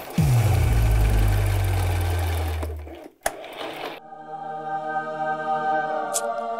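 A sewing machine stitches a hem in a loud, fast, steady whir that winds down and stops near three seconds, followed by a brief clack and quieter background music.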